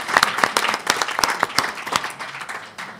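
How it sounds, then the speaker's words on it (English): An audience at an international association's general assembly in Abu Dhabi claps, with distinct, fairly sparse hand claps in a loose, uneven rhythm that thin out and fade toward the end. "We need to clap for Sarah and Kai for their hard work."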